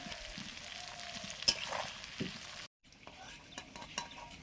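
Steady sizzling of potatoes frying in a pan for a meat curry, continuous and close, with a brief scrape of stirring and a short gap before the sizzle resumes.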